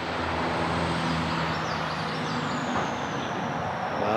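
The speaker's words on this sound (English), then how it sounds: "It was actually a dump truck," A dump truck drives up a rural road, its steady engine rumble loud and continuous from start to finish, with no one speaking.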